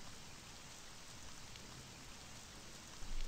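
Steady rain falls in the video game Toraware no Shoujo, a constant even hiss with a slight bump at the very end, and no voices.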